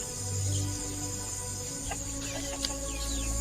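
Chickens on a small farm cluck and call, a few distinct bird calls over a steady outdoor background, fairly close and with no talking.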